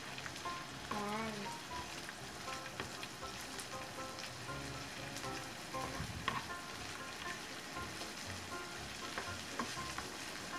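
Onions frying in a pan as part of a beef-and-bitter-gourd dish in a rural kitchen, giving a steady, dense sizzle and crackle with occasional stirring scrapes throughout, close and continuous.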